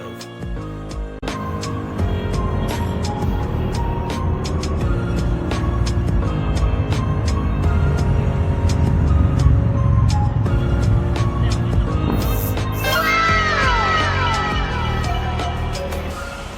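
A Mazda RX-7 FD3S with a Power FC and rev limiter idles and pulls away on a test drive, a steady rotary engine drone that rises and holds, with rising whine near the end.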